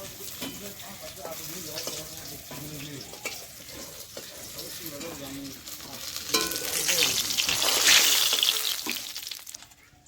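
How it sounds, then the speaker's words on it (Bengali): Oil sizzles steadily as catla fish fries, with occasional stirring and clinks. A voice talks over it early on, and the sizzle swells louder toward the end. "বাকি মাছগুলো এগুলো ভেজে নিচ্ছি"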